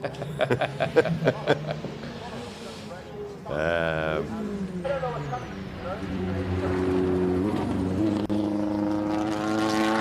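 Race car at a hill climb with an engine missing gears, heard as a stuttering series of revs and a rising, wavering engine note as it passes. Commentators talk over it much of the time.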